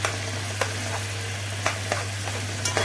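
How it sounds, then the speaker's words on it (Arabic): Vegetables for an egg omelette (eggah) sizzle and fry in a pan, a soft steady crackle with a few sharp clicks of a utensil stirring them. "حطينا كده الخضار وهناخده تقليبتين وهنطفيه"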